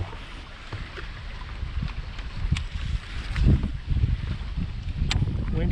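Gusty wind buffets the microphone on open water during a bass fishing trip, with low rumbling bursts and rushing noise rising and falling throughout.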